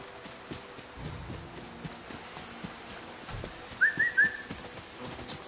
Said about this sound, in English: Let's call the horse over.